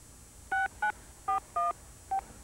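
Push-button tones from a cell phone keypad being dialed: five short two-tone beeps at uneven intervals, clear and close, with no talking.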